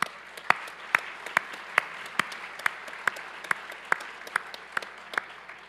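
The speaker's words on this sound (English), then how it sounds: "give both our students and our faculty a round of applause" Sparse applause at a student hardhatting ceremony, with a few hands clapping in a steady, fairly even rhythm of distinct claps, quiet and slightly distant.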